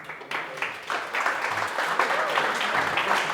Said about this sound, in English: All right, Mr. Ryan Dawson, big round of applause, please.